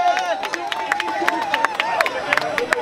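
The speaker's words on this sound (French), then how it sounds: "On applaudit pour la pasteur." People at a gathering of the Ivorian diaspora in Washington clap for a pastor, with distinct rhythmic handclaps standing out over a singing or chanting voice and crowd murmur.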